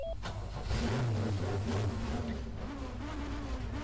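An Alfa Romeo 155 V6 race car roars in the rFactor 2 racing simulator, a loud continuous engine drone whose pitch rises and dips as it revs, steady and close.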